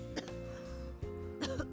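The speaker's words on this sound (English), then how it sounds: "He let out a cloud of smoke in my face, which instantly made me cough" In the video game Tiny Bunny, a character coughs from smoke: a few short, quiet, throaty coughs sit over a low, steady background hum.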